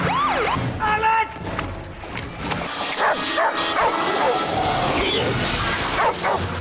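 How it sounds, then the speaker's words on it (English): A dog barks and yips repeatedly, with whimpering between, over a loud busy background and people talking. "Oh my god, the dog's outside"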